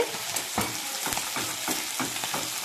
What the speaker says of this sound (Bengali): মা এখন চুনো মাছ ভাজা করছে